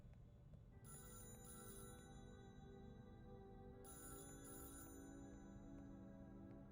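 An old wall-mounted telephone rings indoors, two bursts of bright bell trilling separated by a pause, heard over a steady low background hum.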